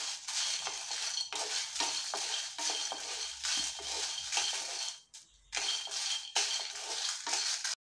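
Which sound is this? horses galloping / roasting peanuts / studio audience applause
roasting peanuts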